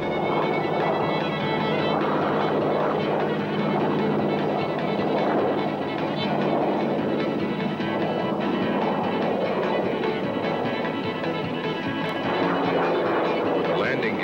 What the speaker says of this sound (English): the big Corsair hangs on its prop in a simulated aircraft carrier landing approach